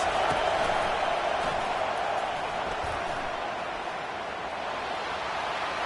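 A stadium crowd at a football game roars in a dense, sustained wash of noise, loud and continuous as fans try to rattle the opposing offense.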